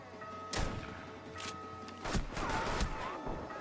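Rainbow Six Siege gunfire with heavy recoil comes as a handful of loud, separate shots and sharp bursts spread over a few seconds, with game background sound between them.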